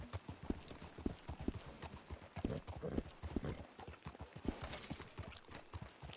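Horse in a 1920s roleplay video game shifting and stepping in place, an irregular run of soft hoof clops close by, with faint background noise and no talk.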